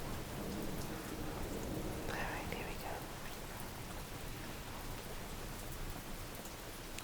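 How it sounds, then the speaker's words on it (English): Steady rain falls throughout, a dense even hiss of drops on a surface at a constant level, with a soft spoken voice briefly heard over it. "Just listen to the rain."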